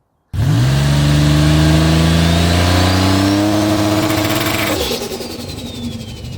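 Drag car engine, an 8-second Grand National with full exhaust and tailpipes, sitting on the trans brake: a loud, close rev that climbs steadily for several seconds, then drops back to a rough, burbling idle.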